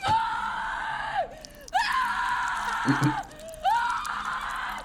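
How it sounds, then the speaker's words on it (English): A woman's sustained, piercing screams from a Terrifier 3 horror film scene, loud and close, coming in long wavering bursts broken by short breaths and gasps. "she starts screaming in earnest"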